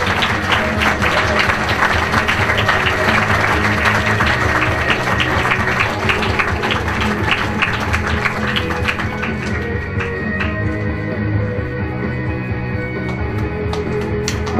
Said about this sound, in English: if we can have a round of applause for John Penkertman